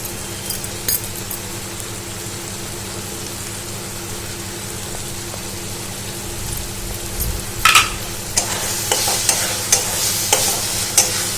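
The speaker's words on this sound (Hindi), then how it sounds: "और इन सबको ऐसे मिक्स कर देते हैं।" Tomatoes and spices being mixed in a pan for prawn masala: a quiet, steady sizzle at first, then louder bursts of scraping and clinking as the spoon moves through the masala toward the end.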